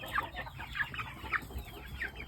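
A young black Shamo rooster clucks quietly several times at a steady pace, a faint, distant call over a low background hum.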